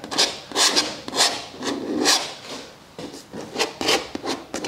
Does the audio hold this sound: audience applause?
no